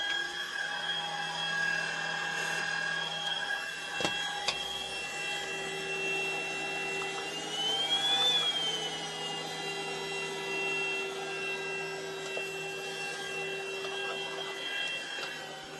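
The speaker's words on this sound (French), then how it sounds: "je vous ai partagé un peu le bruit de l'aspirateur. Donc, c'est pas un aspirateur silencieux" A Thompson Cyclofirst cordless stick vacuum runs continuously in an indoor space, a steady mid-level motor whine with a faint tonal sweep partway through, alone without talk.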